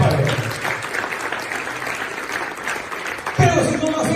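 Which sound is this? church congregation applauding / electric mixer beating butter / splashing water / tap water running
church congregation applauding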